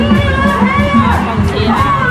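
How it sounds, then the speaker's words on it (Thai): A school sports-day cheering squad roars nearby, a dense crowd of young voices whooping, yelling and shouting continuously with loud, overlapping calls. "กองเชียร์"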